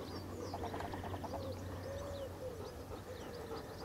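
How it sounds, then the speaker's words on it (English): Outdoor ambience with bird calls and chirps scattered through, a soft cooing in the background, and a steady low hum underneath. "Hear all the birds?"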